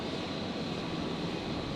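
Qantas 943 airliner taking off from runway 01 right at Brisbane Airport at night, a steady broad engine roar heard from a distance, even in level and without voices.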